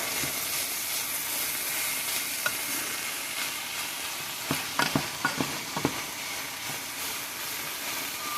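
Flour is stirred into melted butter in a pan over medium heat for shepherd's pie, a constant frying hiss broken by a cluster of sharp spoon scrapes and clinks midway, with no talking.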